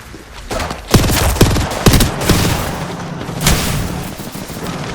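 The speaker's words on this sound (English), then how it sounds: "Incoming artillery." Artillery strike in a video game: a run of heavy booms and blasts lands in quick succession, several sharp loud impacts with rumbling tails, followed by a lingering low roar and one more distant-sounding thud.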